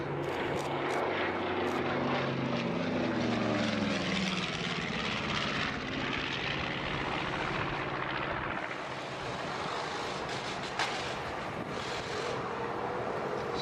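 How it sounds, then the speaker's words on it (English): A vintage aircraft with twin Wright Cyclone engines roars past at the Dunsfold Wings and Wheels airshow: a loud, continuous propeller drone that shifts in pitch as it passes, with some wind buffeting on the microphone. "Lovely sound of those twin right cyclones."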